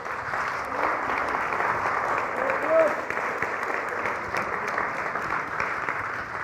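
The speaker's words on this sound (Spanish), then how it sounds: "Dale fuerte el aplauso, alábale." A church congregation claps loudly in praise during a Spanish-language sermon, a sustained, even roar of applause mixed with cheering voices, close and full throughout.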